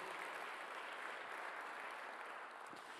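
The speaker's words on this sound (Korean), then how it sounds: "박수 하나 더 주세요." A church congregation at a Korean Sunday worship service applauds in a dense, steady wash of clapping, moderately distant and alone, for about three seconds.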